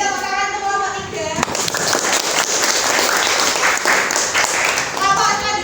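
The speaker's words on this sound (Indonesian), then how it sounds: "Beri tepuk tangan untuk kelompok 3." Classroom audience of students applauding a presenting group, a dense wash of clapping that starts after a brief voice at the opening and continues steadily and fairly loud to the end.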